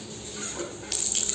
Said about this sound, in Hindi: तो ये भी पानी निकल रहा है, अच्छा है।